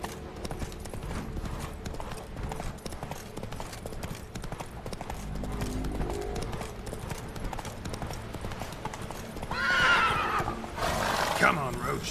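Roach, the horse in The Witcher 3, clip-clops along in a steady trot, then lets out a loud neigh and a second whinny near the end, with ambient game sound underneath.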